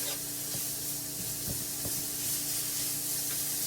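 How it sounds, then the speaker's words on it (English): Zucchini noodles with pesto cook in a pan, giving a steady close sizzle and hiss with a few soft clinks of stirring, and no talk over it. "We're just going to cook these noodles until they are steamed through."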